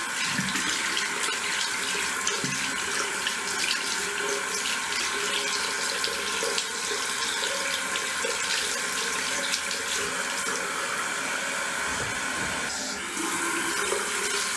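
Hot water runs steadily from a bathroom tap into a sink while someone prepares to wet-shave with a safety razor. The rush is continuous and close, with no talking.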